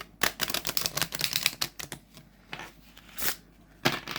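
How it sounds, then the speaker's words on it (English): Oracle cards being shuffled in quick riffling bursts, crisp flutters and taps close up with short pauses between. "Shuffle that way. There's a nice shuffle though."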